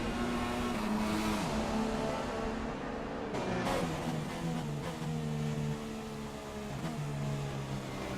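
F1 race car in a racing game drones steadily into a last corner, engine pitch dipping and rising through downshifts and re-acceleration, fairly quiet with no voices.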